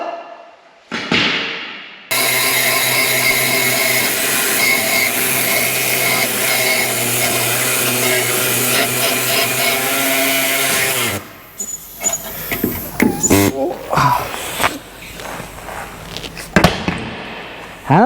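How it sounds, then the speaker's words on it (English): A power tool cuts through a seized bolt on a Mk1 Caddy beam during an air ride install, whining loudly and continuously for about nine seconds, followed by clanks and thuds of handling metal parts. "This one would not budge, so I had to end up cutting it off."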